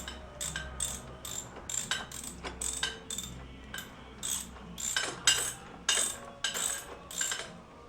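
Ratcheting clicks from a torque wrench tightening a nut on a compact engine guard of a Royal Enfield Continental GT 650 motorcycle, a steady series of short, close metallic clicks in quick bursts, heard alone.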